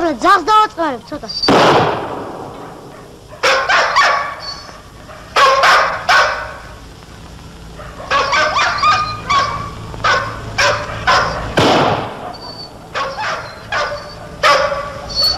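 A dog barks loudly and close by in repeated bursts and short runs of barks and yips, set among scenes with people speaking and a few sharp bangs.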